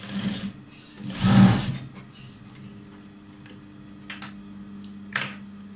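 A sewing machine stitches the sleeve of a garment in brief bursts: a short, loud mechanical whir, then quieter ticks and clicks of the mechanism, close by and without talk.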